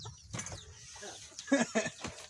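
Chickens cluck in short, close bursts, a few sharp calls bunched toward the end over a quiet background.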